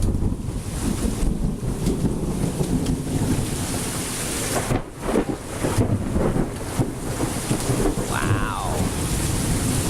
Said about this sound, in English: Now we got hail coming.